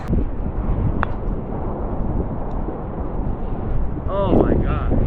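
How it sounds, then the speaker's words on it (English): Steady wind roars and buffets the microphone throughout on a Las Vegas golf course, with a brief voice-like sound near the end. "I know it's windy"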